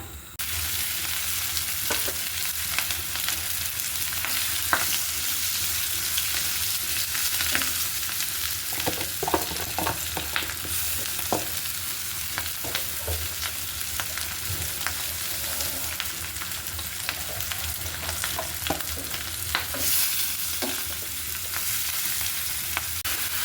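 Food sizzles and fries in a pan of oil reused from frying fish, a continuous crackling hiss with scattered clicks and scrapes from stirring, heard close and without talk.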